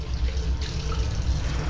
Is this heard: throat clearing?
no